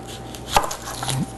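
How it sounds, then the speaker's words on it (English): A knife chops through an onion on a cutting board in a home kitchen, a few sharp crisp strikes, close and clear with no talking. "I'm going to start chopping my onion while we're waiting for that heat up."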